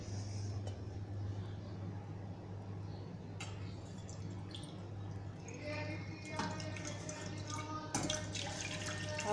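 Half a litre of milk pours into a pan for homemade condensed milk, a steady liquid splash and trickle that grows busier toward the end, over a low hum.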